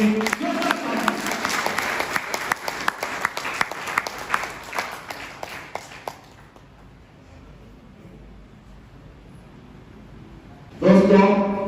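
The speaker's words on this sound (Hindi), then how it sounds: "आप सब एक बार जोरदार ताली से स्वागत कीजिए।" An audience at a business seminar in Garhwa bursts into loud, crisp clapping for about six seconds, then the hall falls almost silent before a voice begins speaking at the end.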